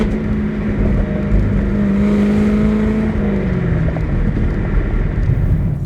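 A 2019 Chevrolet Camaro 1LE with manual clutch rev-matches its engine, a loud steady drone that rises and dips slightly, heard from inside the car without talk.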